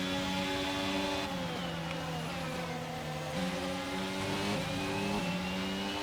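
An F1 race car engine in the F1 22 video game drones steadily at high revs, its pitch dipping and climbing through gear changes and corners, loud and continuous with no talking.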